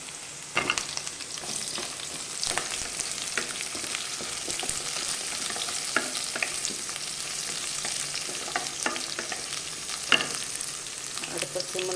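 Drumsticks sauté in a pan for sambar, with a steady sizzle of frying under intermittent scraping and stirring knocks from a utensil.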